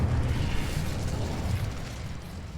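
Incendio fire spell erupting in Hogwarts Legacy, a dense low rumbling burst of flame that roars steadily close by for a few seconds, loud and unbroken, with no talk over it.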